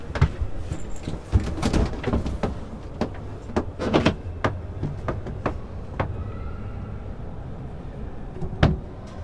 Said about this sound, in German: Tür auf.